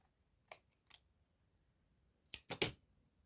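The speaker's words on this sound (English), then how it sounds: "Just going to trim up the overhang." Scissors trimming the paper overhang off a layered craft tag: a couple of faint isolated snips, then three louder, close crisp cuts in quick succession near the end, with no talking.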